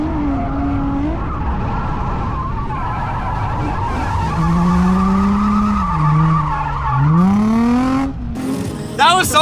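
An Infiniti G35 drifts on a race track in third gear, its engine pitch climbing and dipping under long, loud tire squeal and skidding, with voices talking over it.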